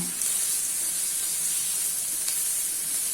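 Green masala hisses steadily in a hot pan with fried onions for egg tawa masala, a loud, continuous, close sizzle with only faint hints of mixing and no talking.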